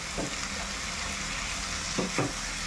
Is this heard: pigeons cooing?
no